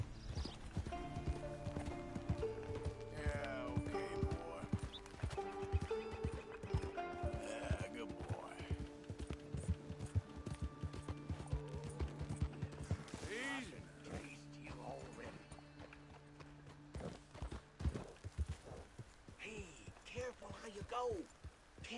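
In Red Dead Redemption 2, horse hooves clip-clop steadily with occasional neighs and whinnies, while a voice talks over the game sounds throughout.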